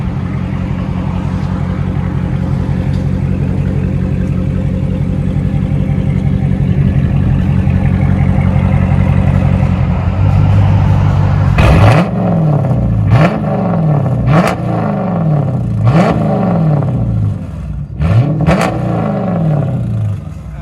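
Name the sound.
Dodge Charger 5.7L R/T HEMI engine revving, aftermarket exhaust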